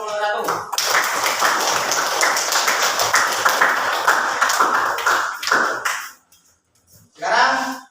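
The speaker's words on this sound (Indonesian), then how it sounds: "Ya, kasih tepuk tangan kelompok 1." Students in a classroom applaud group 1 after its presentation with a lively burst of clapping and tapping that fills most of the moment. It then drops to near silence before a voice begins speaking.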